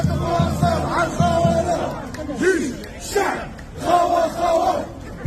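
A crowd of protesters at a Paris sit-in supporting the Algerian government chants the slogan "One, Two, Three, Viva l'Algérie" in loud, rhythmic unison, with repeated cycles and short pauses between the shouted phrases.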